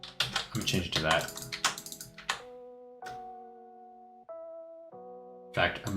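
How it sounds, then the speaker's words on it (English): Quick, close keyboard clicks come in a dense burst, stop while sustained tones hold, then resume briefly at the end. "I'm just tired of typing."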